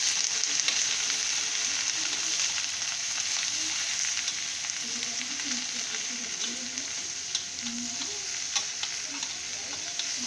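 Okra frying in plenty of oil as spice masala is stirred through it, a continuous close sizzle with soft scraping of the stirring and faint background murmur.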